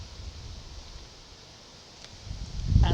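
Wind blows outdoors at a fishing spot for tench and orfe, a soft steady rushing that swells into louder low buffeting against the microphone at the end.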